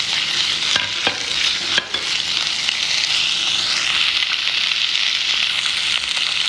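Octopus is stir-fried in a wok with scallion, ginger and dried chilies, a loud continuous sizzle with scraping and clattering strokes of the spatula tossing the pieces close up.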